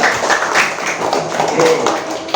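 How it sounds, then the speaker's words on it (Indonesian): A classroom full of students claps for the third group after their presentation, a dense, steady patter of hands lasting a couple of seconds with voices mixed in. "Kita tepuk tangan untuk kelompok ketiga."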